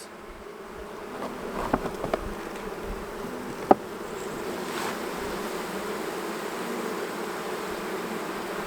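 Honey bees buzz around an opened hive during a hive split, a dense, steady drone of many insects close by with a few small knocks from handling.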